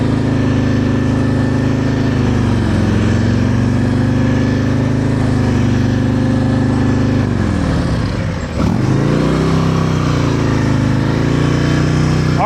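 A motorcycle engine runs steadily at high RPM during a slow-speed riding drill, held at too much throttle with a loud, sustained drone and a brief dip and recovery near the end.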